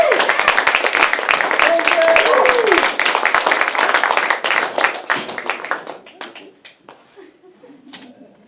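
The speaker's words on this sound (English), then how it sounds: "give her a round of applause" Audience applause for performer Lindsey Leonard at a live show, loud and dense at first with a brief whistle or cheer, then thinning into scattered claps that fade out.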